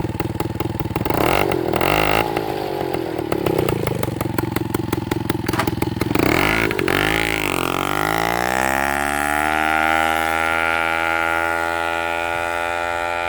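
A small moped runs with a nearly empty exhaust, first a rattling, buzzing rev close by, then settling into a steady, even idle hum.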